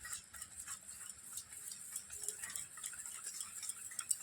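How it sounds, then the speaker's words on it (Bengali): A spoon clinks and scrapes against a bowl as sugar and baking powder are stirred into oil for biscuits, making quiet, irregular ticking taps with no voices. "তেলের মধ্যে এবার আমি চিনি আর বেকিং পাউডারটা একটু ভালো করে মিশিয়ে নেব।"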